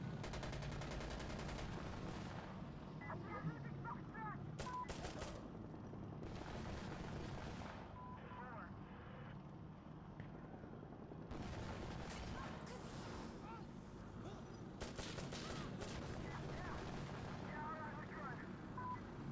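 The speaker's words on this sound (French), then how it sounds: "Je repasse en coup par coup. C'est le FAMAS, a pas mal de recul au final." FAMAS rifle in Insurgency fires in bursts of sharp shots at close range, clustered into several volleys with quieter gaps and distant gunfire between them, while speech runs underneath.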